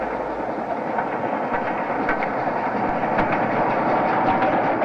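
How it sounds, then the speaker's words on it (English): A GWR King class steam locomotive hauling an express on the Birmingham main line in 1962 rolls past nearby, a dense steady rush of rail noise with faint rhythmic clicks and no voices. "This is 6022 King Edward III on a down express."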